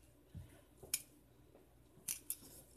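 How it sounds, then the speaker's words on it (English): Folding knife blade clicking as it rotates through small notches in the tang, giving a few sharp, close, fairly quiet clicks spaced irregularly over a hushed background. "But you can hear it clicking. It's got little notches"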